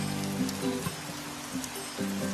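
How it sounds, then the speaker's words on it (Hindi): Steady rain falls with a constant hiss of drops, heard alongside a sustained tonal background. "हम जब भी मिलते बारिश होती है।"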